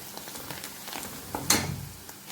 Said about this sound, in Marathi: एक ते दीड चमचा लाल तिखट आणि थोडासा गरम मसाला हे सगळे मसाले छानपैकी परतून घ्यायचे आहेत